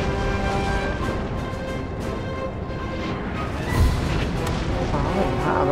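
Artillery fire in a Napoleon Total War battle: a dense, continuous rumble of distant cannon booms and battle din, with a slightly heavier thud near the middle, all at fairly even loudness.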